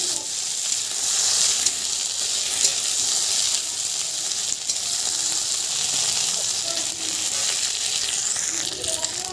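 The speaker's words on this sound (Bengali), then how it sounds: "লঙ্কা বাটা লঙ্কা বাটাটা ভালো করে নেড়ে নিচ্ছি" Chili paste sizzling and frying in a pan while being stirred, for a fish-head and banana-flower curry; a steady, close hiss runs throughout with faint scraping and no talking.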